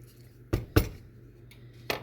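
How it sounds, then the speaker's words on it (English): Noodles being stirred into a pot of homemade chicken noodle soup, with a few sharp utensil clinks against the pot spaced irregularly over a quiet simmering background. "we're going to stir them all in"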